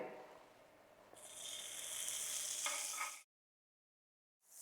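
Butter sizzling and frying on a hot tawa griddle before a masala toast sandwich goes on, a close crackling hiss that swells louder, then cuts to silence before returning briefly.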